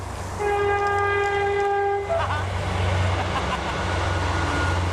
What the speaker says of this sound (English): Bloody trains.